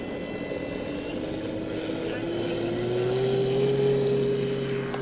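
An Eflite Carbon Z T28 RC airplane, a 2-metre model, takes off from a grass field, its electric motor whining steadily and rising in pitch as it climbs away, with someone talking over it.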